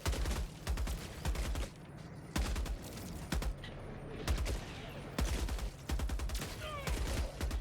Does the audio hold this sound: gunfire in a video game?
yes